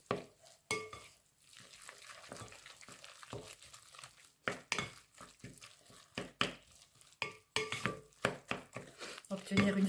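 Seasoned filling with lardons stirred in a frying pan, a few clinking scrapes and soft rustling strokes in bursts, close and fairly quiet, with gentle sizzling underneath and brief pauses between stirs.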